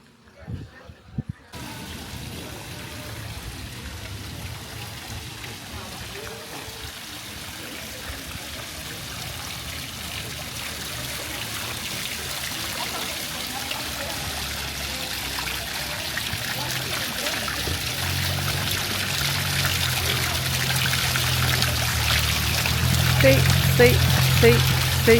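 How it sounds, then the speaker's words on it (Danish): A town-square water fountain splashes in a continuous, steady rush that grows slightly louder toward the end, heard outdoors on a street with faint ambient noise. "Jeg tror, det er den her vandfontæne herovre, der bliver betegnet som"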